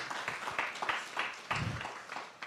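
Audience clapping for the panelists at a campus career panel event, a thin, fairly quiet patter of hands from a small crowd, continuous for a couple of seconds.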